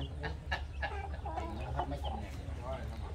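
Free-range chickens cluck in a rural Vietnamese home garden near Chau Doc, a cluster of repeated close clucks over a low steady background hum, with people talking nearby.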